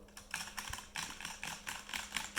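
Typing on a Ducky One 2 mechanical keyboard produces a steady run of quick, light key clacks in irregular bursts, close but soft and with no voice over them.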